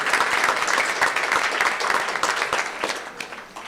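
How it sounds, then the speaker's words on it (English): Steady applause from an audience at a Chicago induction ceremony for inductees, a dense wash of many clapping hands that continues evenly and begins to thin toward the end. "so let's give a round of applause."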